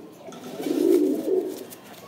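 A single imported-bloodline pigeon gives one low, throaty coo that swells and fades over about a second, close and fairly quiet, with no talking.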